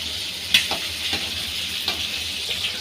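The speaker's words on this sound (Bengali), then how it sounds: "এদিকে এটা ভাজা হোক" Shredded cabbage sizzles and fries in a pan, a steady bright crackle broken by a few louder stirring scrapes, close and with no one talking.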